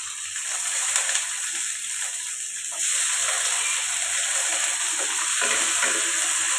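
Carrot and onion stir-frying in a hot pan, a steady loud sizzle with hissing steam and occasional scraping stirs throughout.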